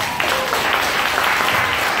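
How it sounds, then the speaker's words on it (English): Steady applause from an audience at an elementary school leadership summit, a dense wash of clapping that stays loud and even for the full two seconds with no talk over it. "Please join me again in a big round of applause to Mr. Chavez."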